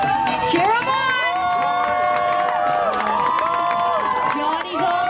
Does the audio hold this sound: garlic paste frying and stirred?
no